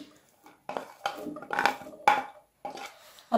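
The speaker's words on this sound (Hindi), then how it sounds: "अब मैंने एक पतीली ले ली है, इसके अंदर मैं ऑयल ऐड करती हूँ और साथ में कटी हुई प्याज।" Oil and chopped onion going into a cooking pot, a few separate clattering knocks and scrapes of metal with quiet gaps between them, close and fairly soft.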